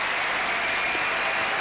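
Tennis crowd at a 1995 Kitzbühel final breaking into applause after a shot, a steady dense wash of clapping that fills the whole short stretch without any talk.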